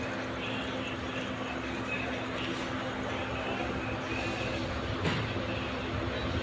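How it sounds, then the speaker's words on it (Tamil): A passenger train pulls out of a station on the Erode to Mettur Dam line: a steady low rumble and hum of the moving train continues throughout at moderate level, with one brief sharper clank near the end. "வண்டி கிளம்பிடுச்சுங்க, நின்ன உடனே கிளம்புது வண்டி"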